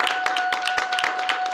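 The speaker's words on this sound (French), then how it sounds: "Applaudissez encore le Seigneur." Church congregation clapping, a brisk run of many hand claps over a sustained organ-like tone, close and moderately loud.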